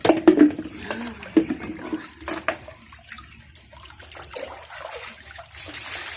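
Water splashes and sloshes as someone bathes in an outdoor water tank, irregular close splashes and trickles with quieter gaps between them.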